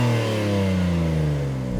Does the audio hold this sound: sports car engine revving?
yes